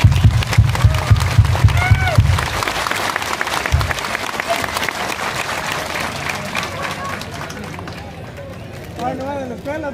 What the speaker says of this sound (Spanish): El aplauso de ustedes, respetable público.